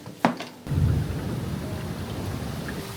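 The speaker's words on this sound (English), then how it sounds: "Maybe it's because I love the thunderstorms." A thunderstorm with rain falls outside a studio: a sharp, close thunder crack at the start, then a steady, dense wash of rain that carries on throughout.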